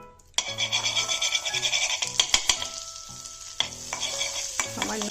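Minced garlic fries in butter in a wok, with a loud close sizzle starting abruptly and repeated rhythmic stirring scrapes and clanks of a utensil, and no one talking.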